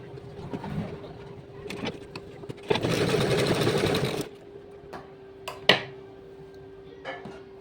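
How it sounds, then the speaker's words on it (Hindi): A sewing machine stitching a pant pocket whirs in one loud, steady run of about a second and a half, framed by quieter handling clicks and soft taps before and after, with a faint background hum throughout. "यहाँ से यहाँ तक हम सिलाई लगा देंगे"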